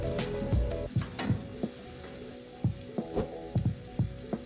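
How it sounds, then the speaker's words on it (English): Carrots and onion sautéing with spices in a pan, a steady close sizzle broken by irregular scraping stirs and clinks of the spoon. "Continue sauteing for another 3 minutes"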